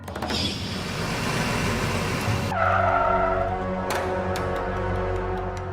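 A car on a deserted forest road skids to a stop, a rough rolling rumble followed by a sharp tire squeal as it halts, close and fairly loud, with no voices.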